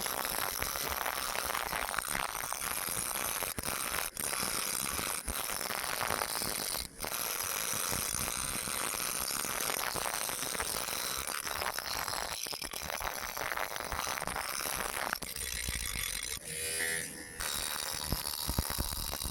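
A power tool grinds steadily against an old knife to strip rust, a loud continuous abrasive whir with a few brief dropouts and a wavering change near the end.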